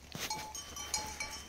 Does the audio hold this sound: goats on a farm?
yes